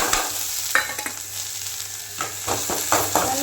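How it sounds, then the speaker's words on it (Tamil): Onions and chana dal frying in a pan, with occasional scrapes and stirs of a spoon over a steady, close sizzle; no one speaks. "நல்ல பொன்வருவலாக வெங்காயமும் வதங்கணும்."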